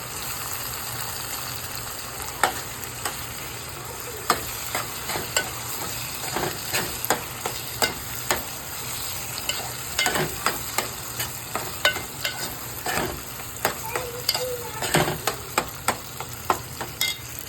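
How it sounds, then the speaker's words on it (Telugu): Green chillies fry in an oiled pan with a steady broadband sizzle, broken by frequent sharp pops and crackles as they are stirred, close and fairly loud with no talking. "అండ్ పచ్చిమిరపకాయలండి, ఇవి కూడా కొంచెం బాగా వేగినాక"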